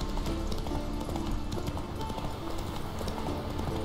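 A horse gallops in The Witcher 3, with rapid rhythmic hoofbeats pounding steadily over a busy game soundscape.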